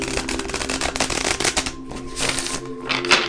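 Continuous crisp riffling and flicking of a tarot card deck being shuffled, steady and close, with brief snapping bursts and no talk.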